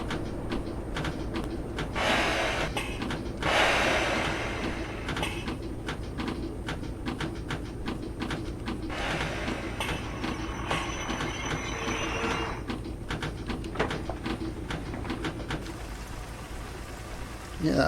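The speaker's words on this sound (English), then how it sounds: "Another 142 coming through. Seems to be a fast train going straight through." Class 142 train passing fast on the Great Western Mainline between Oxford and Reading in Train Sim 2020, a steady loud rumble of wheels and rail noise with squealing and clattering, sustained for the whole stretch.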